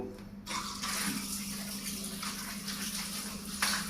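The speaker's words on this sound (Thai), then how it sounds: "ลองเอาน้ำใส่ดู" Water pours in a steady broadband rush onto a Daiso non-slip bath mat in a bathroom, starting abruptly after a short quiet moment and running continuously, close and moderately loud.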